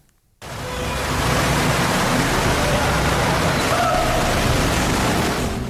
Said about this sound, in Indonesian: Hujan deras yang mengguyur Jakarta pada Kamis siang